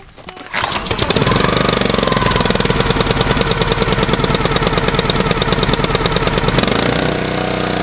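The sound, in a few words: gas-powered engine starting up for firewood cutting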